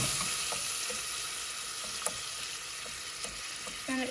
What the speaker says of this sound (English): We're gonna whisk it.